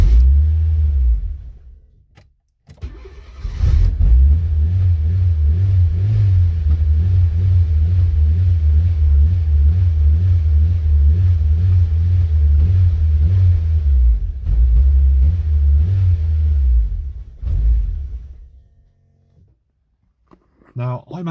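A Fiat Cinquecento turbo engine idles close by with a low, steady rumble, lifting briefly under gentle throttle blips before cutting out near the end.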